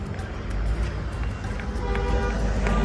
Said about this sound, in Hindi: ये है प्रयागराज का ट्रैफिक जाम जो लगा है पूरे खतरनाक